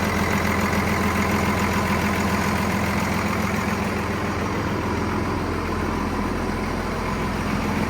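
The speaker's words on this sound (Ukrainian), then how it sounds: "Зараз покажу трохи мотор." A ZIL 4331 truck fitted with a turbocharged, intercooled Mercedes engine idles close by, a steady deep diesel rumble with a faint rhythmic pulse, unbroken and without speech.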